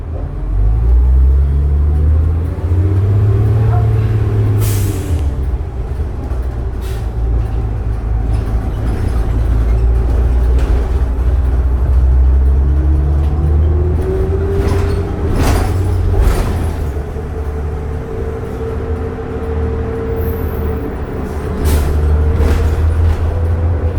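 Interior ride aboard a 2007 New Flyer D40LF city bus: a loud, low diesel drone that rises and falls through gear changes, with rattles, clunks and road bumps along the way, no talk heard.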